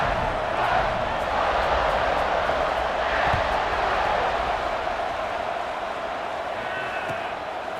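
A stadium crowd in a football video game, a loud, dense, continuous roar of cheering that holds steady throughout, with faint commentary-like voices woven in.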